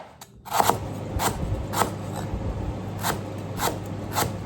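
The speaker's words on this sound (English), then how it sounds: "Slice your lemongrass. I'm gonna cut them thin like this." A knife slices lemongrass thinly on a board for a Khmer kabocha and pork rib soup, a series of crisp, rasping cuts repeated at an even pace, close and alone.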